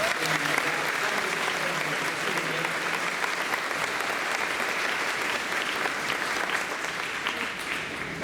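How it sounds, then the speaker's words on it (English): Sustained audience applause at the NCHS Class of 2025 graduation ceremony, honoring volunteers, dense clapping from a large crowd filling the room evenly for the whole stretch. "Can we get a round of applause for those who have volunteered to be here on Sunday?"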